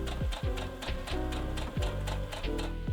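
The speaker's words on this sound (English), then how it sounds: "I'm going to sew with about a 1/4 inch seam allowance, just a straight stitch down the open side." A sewing machine running a straight stitch on fleece, its needle thumping in a steady fast rhythm with a whirring motor underneath, close and continuous with no talking.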